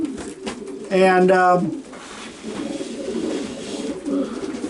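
A racing pigeon gives soft, low throaty coos close by, one louder burst early and quieter murmuring coos after, with a voice briefly speaking alongside.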